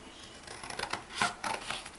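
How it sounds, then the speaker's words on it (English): Scissors snipping through card to cut out model railway platform canopies, a few quick close crisp cuts in short bursts. "So I've got my scissors here,"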